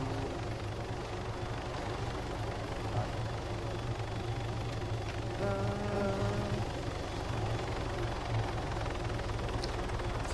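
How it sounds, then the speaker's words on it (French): A helicopter in a King of the Hill gun-fight video game drones with a steady low rotor thrum and engine hum throughout, a brief whine rising midway. "Lionel il est parti dans l'hélico"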